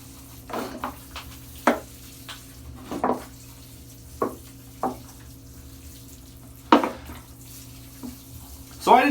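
Water poured onto the soil of a flowering crabapple bonsai tree, coming in short, irregular splashes and trickles against a faint steady background hum.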